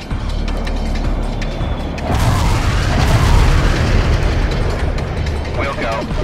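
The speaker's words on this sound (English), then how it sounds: "Zulu-Niner firing mortars" Mortar fire in the strategy game World in Conflict: a quieter mechanical backdrop gives way around two seconds in to a heavy, booming barrage that rumbles and rolls on to the end.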